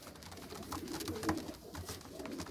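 Pigeons at a loft in Faisalabad, Pakistan, coo in a soft, steady, low murmur that runs through the whole stretch at moderate loudness, with no talking.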